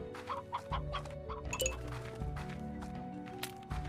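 Chickens cluck and squawk in a repeating pattern in the video game Slime Rancher, over a plinky electronic game soundtrack, with occasional bright chimes.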